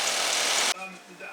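The engine of a 2006 Nissan Altima runs with a loud, steady roar for a moment, then cuts off abruptly. A quieter, uneven tail of sound follows.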